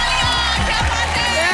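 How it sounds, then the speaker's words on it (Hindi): Studio audience at a Hindi TV game show, a short burst of loud crowd clapping and cheering, close and continuous across the moment. "जोरदार ताली।"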